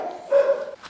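Husky dog giving a brief, high, whining yelp, close and short, with nothing else around it.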